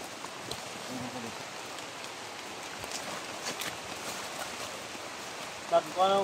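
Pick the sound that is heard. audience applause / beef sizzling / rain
rain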